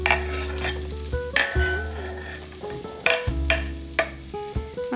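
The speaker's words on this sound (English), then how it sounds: "chop up 3 celery sticks and add them to the pan as well" Chopped onion and celery sizzle steadily in a pan while a utensil scrapes and stirs, with several sharp close clinks cutting into the frying.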